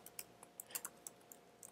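Keys tapped on a computer keyboard while a simulation name is entered into MATLAB, giving a quick, irregular run of light, faint clicks with short pauses and no voices.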